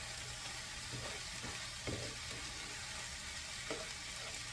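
Red curry powder and chili powder being stirred together in a pan for an enchilada casserole, a faint continuous low sizzle with a few soft scrapes and knocks of the utensil, and no talk.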